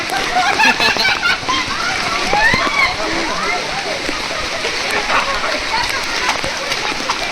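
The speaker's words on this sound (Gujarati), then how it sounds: "એ વોટરફોલ આવ્યો વોટરફોલ" Steady rushing and splashing of a waterfall in Matheran, Maharashtra fills the scene, with a person talking over it.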